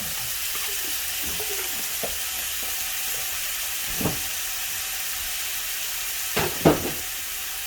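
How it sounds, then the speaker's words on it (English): Shrimp and garlic sizzle in a pan, a steady hissing fry close by that runs throughout, broken by a few sharp clicks and scrapes of a utensil near the end. "while the shrimp is getting to the color I want, I'm going to add the garlic"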